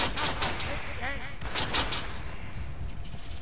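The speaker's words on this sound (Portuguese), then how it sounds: "Aí gerou o tiro de sniper" Gunfire from a sniper shot in the Realm Royale battle royale video game: several sharp, loud cracks in quick bursts, heard under a man's speech and game background noise.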